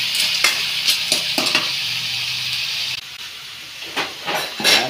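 Lemongrass goes into a hot, loudly sizzling pan and is stirred, with a strong steady hiss broken by repeated scraping strokes of the spoon, close by and with no talk.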